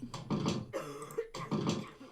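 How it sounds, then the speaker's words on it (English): Three bursts of harsh coughing close to the microphone, loud and evenly spaced, with no talking. "someone's coughing into the mic"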